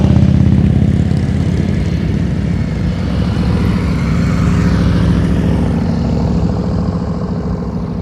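A motorcycle engine idles low and steady at slow riding speed with the throttle held loaded, a continuous rumbling drone that stays fairly loud and even throughout.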